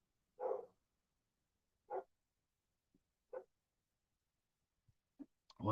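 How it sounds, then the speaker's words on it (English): A dog barks a few times, single sharp barks spaced about a second apart, fairly faint and in a quiet room. "Why is my dog barking?"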